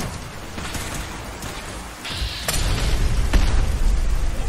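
Grenade blasts in Fallout 4: a muffled rumble, then a sharp crack and a heavier booming burst with a low, rolling roar that keeps swelling close and loud; no voices.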